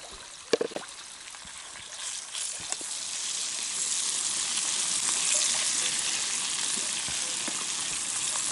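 Snails frying in a pan, starting with a few clinks and scrapes, then a steady sizzle that swells and holds as the pan heats, with no voices.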